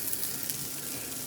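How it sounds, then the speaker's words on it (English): Turkey burgers sizzle in a hot pan, a steady hissing fry that runs without a break, fairly faint and close, with no talking. "Now, you should hear that sizzle. That's how you know the pan is hot enough."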